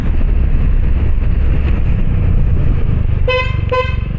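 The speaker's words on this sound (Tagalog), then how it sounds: "Ayan na naman gano'n yung busina." Two short, bright horn honks from a Honda Fazzio scooter near the end, sounding over a steady, rumbling engine and road noise that fills the whole clip.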